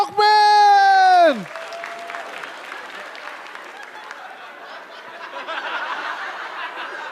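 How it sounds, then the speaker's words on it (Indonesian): Audience applause and scattered laughter greet stand-up comedian Mukmin at a comedy competition show, a steady crowd clatter that lingers after a loud, bright fanfare-like tone at the start, swelling again toward the end. "Beri tepuk tangan yang meriah untuk"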